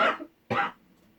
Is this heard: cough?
yes